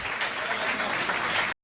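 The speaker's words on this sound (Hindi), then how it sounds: "तालियां जोरदार बजना चाहिए।" An audience at a kavi sammelan poetry gathering breaks into dense, steady applause that fills the moment before cutting off abruptly.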